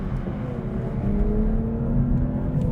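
A manual Toyota GR Supra engine hums steadily from inside the car and rises slightly in pitch as it revs during a heel-toe downshift, a continuous drone with no voices.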